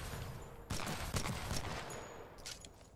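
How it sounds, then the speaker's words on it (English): Bursts of rapid gunfire from the video game Titanfall 2 crackle in clusters, loud and dense, with brief gaps and a sharp sudden onset partway through. "I turned down the bullet sounds"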